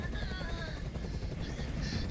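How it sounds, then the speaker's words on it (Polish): A helicopter hovering overhead in the video game Detroit: Become Human, giving a steady, loud rotor rumble that fills the clip under faint background voices. "Nie mogę już znieść tego hałasu! Każ swoim odwołać helikopter!"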